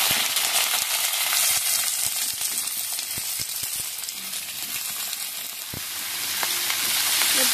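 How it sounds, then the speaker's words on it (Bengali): Cauliflower and potato pieces frying in hot mustard oil with dried red chilli and whole cumin, a steady loud broadband sizzle with scattered crackles and pops throughout, no talking. "এরপর দিয়ে দিচ্ছি ফুলকপি আলু দুটো একসঙ্গে দিয়ে দিচ্ছি।"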